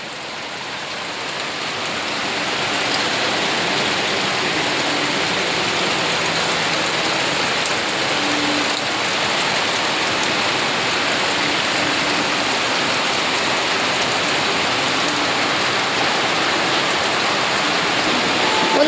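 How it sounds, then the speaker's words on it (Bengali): Heavy rain pours steadily outside a shop, water pooling on the ground, a dense unbroken hiss that swells slightly in the first seconds and then holds at an even roar. "দেখেন কি সুন্দর বৃষ্টি হচ্ছে"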